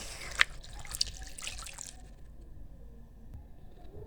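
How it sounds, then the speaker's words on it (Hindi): Water poured into a frying pan holding halved tomatoes, a brief splashing squish with a couple of sharp drips at the start, fading to a quiet hiss and still liquid. "इसमें पानी शामिल कर देंगे।"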